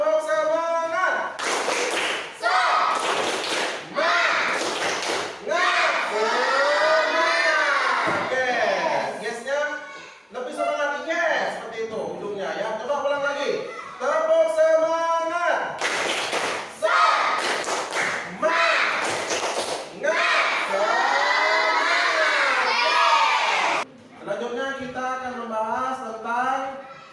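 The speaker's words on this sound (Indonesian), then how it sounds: "coba Bapak ingin kita tepuk semangat dulu, ya. Tepuk semangat." A classroom of students does the rhythmic spirit clap known as tepuk semangat, with bursts of sharp patterned clapping that come and go between stretches of loud talk and chanting voices.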